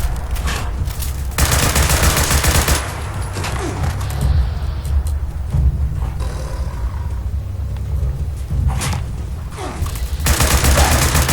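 Gunfire in the video game Fallout 76 comes as loud bursts of rapid shots over a dense, rumbling game background, with some gaps between the volleys.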